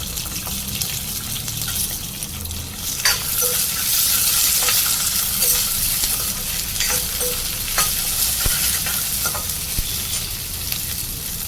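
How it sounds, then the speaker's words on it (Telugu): Dried red chillies frying in a pan for a drumstick-leaf chutney make a close, constant sizzle with scattered stirring scrapes and light ticks throughout, with no speech. "ఇప్పుడు ఎండుమిర్చి వేసుకోవాలి"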